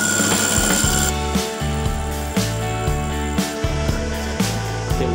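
A core drill bores a hole for a boiler oil flue, running loud and close with a low grinding drone and regular rhythmic knocks.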